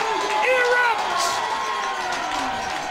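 A stadium crowd at a 2022 UFA professional ultimate frisbee game cheers loudly after a Callahan play, with shouts and a broad roar that stay strong and then ease slightly.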